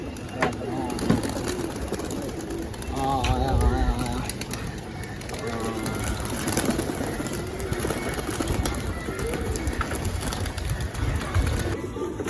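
Pigeons in a loft cooing, repeated soft throaty warbles from several birds close by, with people talking over them and a busy background murmur.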